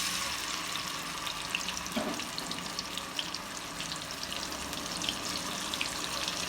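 Ginger garlic paste and whole garam masala spices fry in hot oil for palak gosht, giving a continuous hissing sizzle with light stirring scrapes throughout and no talking.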